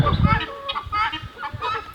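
Chickens cluck in repeated short bursts close by, with low rumbling noise at the start and a voice talking intermittently underneath.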